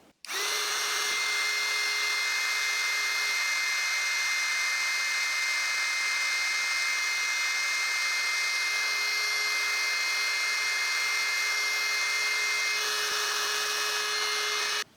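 A Let's Resin heat gun running without its nozzle over resin, giving a steady close whooshing blow with a faint high whine that lasts unbroken for about fifteen seconds before it cuts off.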